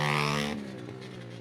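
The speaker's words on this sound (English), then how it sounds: "And the leader, Jordan Getz, at Kawasaki, almost sounded like it was trying to foul a plug coming by here on the infield" A Kawasaki racing motorcycle passes on the infield of a track, its engine loud and close at first with a high, rough note that drops in pitch and fades quickly as it moves away.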